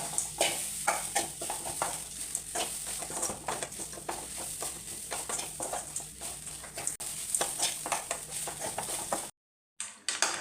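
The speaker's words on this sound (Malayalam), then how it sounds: "അതിന് കരിയാപ്പില ഇടാം. ഒന്ന് ഇളക്കാം." Grated coconut with turmeric and curry leaves roasts in a pan for chammanthi podi, a spoon scraping and stirring in repeated soft strokes over a faint sizzle, close and steady, briefly cutting out near the end.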